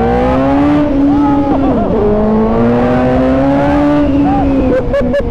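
A loud motorcycle engine revs and drones up close, its pitch rising and falling as it accelerates, with wind rushing past throughout.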